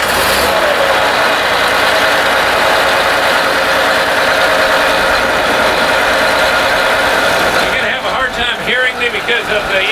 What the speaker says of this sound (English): we'll go out behind, let you see the engine start